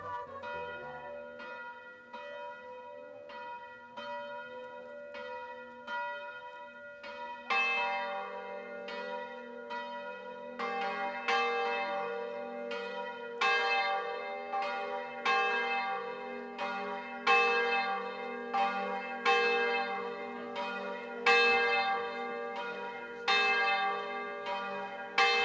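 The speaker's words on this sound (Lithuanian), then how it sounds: "per šiuos atlaidus pirmą kartą nuskambėjo nauji Vajasiškio bažnyčios varpai." The new church bells of Vajasiškis ring out together during a church festival, a steady overlapping peal of repeated strikes that grows fuller and louder partway through and keeps sounding throughout.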